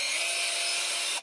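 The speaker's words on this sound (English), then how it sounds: "So you're going to take the step drill" A step drill bit widens a half-inch hole while anchoring a TV or monitor to a wall, a steady close grinding whir that runs without pause and then cuts off at the end.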